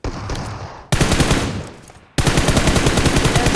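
Rapid, loud bursts of gunfire from a shotgun in the battle royale game BGMI (PUBG Mobile), with dense repeated shots in two sustained volleys after a quieter opening stretch, no talking over them.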